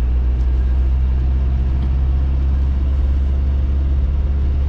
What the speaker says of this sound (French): Même moi, avec le turbo diesel, je vois que ça rame tellement ça monte.